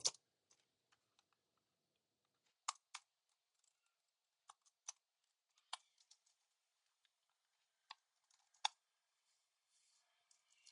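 Fingers clack on a computer keyboard in scattered bursts of sharp, crisp keystrokes with brief pauses between them, close and fairly quiet, with no voices.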